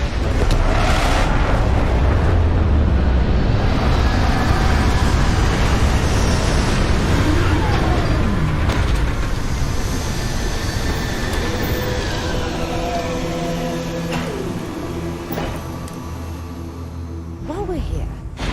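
A spaceship's landing thrusters roar in Starfield, a loud, sustained rumbling blast with hissing and rising whines throughout, under a synthetic voice speaking over it.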